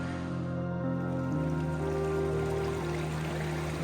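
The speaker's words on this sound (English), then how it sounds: "Pretty interesting creek crossing here." Mountain creek at a trail crossing in Kings Canyon National Park and the John Muir Wilderness flowing with a soft, steady rush of water, faint and continuous with no talk.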